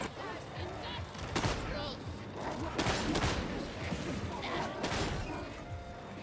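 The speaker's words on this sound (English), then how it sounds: "God, I love shotguns." Shotgun blasts ring out in Warhammer 40,000: Darktide, several loud, sharp bursts spaced irregularly across the clip over a dense bed of combat noise.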